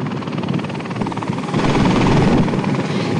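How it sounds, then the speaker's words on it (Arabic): A helicopter fitted with spraying equipment pumps distilled water to wash insulators on high-voltage power lines in Algeria; its rotor thrums loud and close, rising in intensity halfway through, with no voices. "هي مروحية مجهزة بمعدات خاصة تقوم بضخ كميات من الماء المقطر لتنظيف العوازل الكهربائية في خطوط الضغط العالي"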